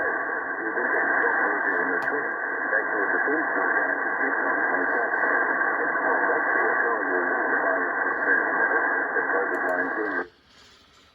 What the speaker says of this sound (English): That's Radio New Zealand International, and I'm listening to them today